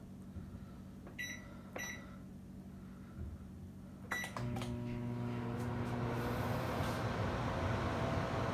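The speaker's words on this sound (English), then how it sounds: "I microwave my butter." A few short beeps, then a microwave oven heating butter starts up and hums steadily at close range until the end.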